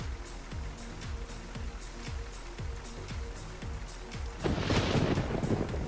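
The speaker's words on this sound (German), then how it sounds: "Oh, das donnert." Thunder rumbles in a stormy Euro Truck Simulator 2 game scene, starting as a steady low growl with repeated soft thuds and then swelling into a loud, broad crackling roll near the end.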